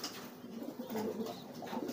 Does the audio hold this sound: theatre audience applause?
no